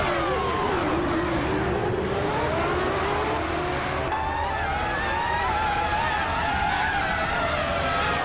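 Video game race cars start off together on the Rio de Janeiro mini-track, with dense, loud engine whine climbing in pitch, tyres squealing, and overlapping revs throughout, no voices.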